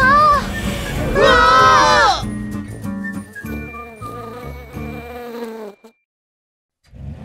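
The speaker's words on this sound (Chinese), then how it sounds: "不会是蜜蜂又来了吧？" Cartoon bees swarm in a children's animation, a shrill, high buzzing drone mixed with excited character voices and jingly music. The sound then fades out to a brief silence.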